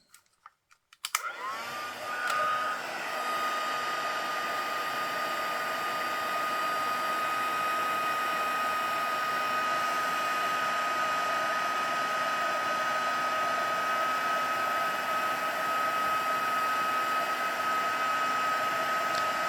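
A craft heat tool heats embossing powder, switching on after a few clicks and then blowing as a steady, close, continuous whirring roar with a constant high whine.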